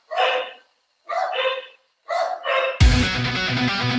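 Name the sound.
neighbor's dog barking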